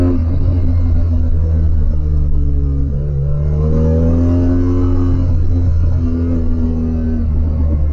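A BMW R1200GS Adventure motorcycle engine drones steadily up close, its pitch rising and falling as it revs, with a heavy low rumble running continuously underneath.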